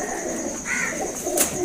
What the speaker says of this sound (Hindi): ये बड़ा कबूतर है